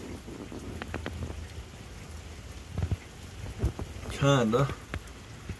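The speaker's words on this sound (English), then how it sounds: "And it's pouring down rain out here." Steady rain pours down outdoors as a broad, constant hiss, with a few heavier drops and splashes and someone speaking briefly near the end.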